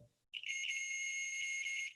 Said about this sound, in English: it should make a beeping sound, which is what it's doing right now when I touch these two leads together